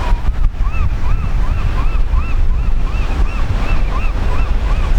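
Pacific coast surf roars in a steady, dense wash with heavy wind buffeting the microphone. Faint whistling tones rise and fall above the roar.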